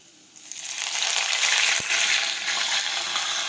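Mustard seeds and curry leaves hit hot oil that already holds crushed garlic, for a moong bean curry. A loud hissing sizzle bursts up and then holds as a steady, close crackle with no talk.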